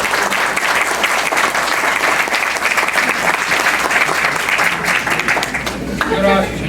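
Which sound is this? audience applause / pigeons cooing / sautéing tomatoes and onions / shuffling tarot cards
audience applause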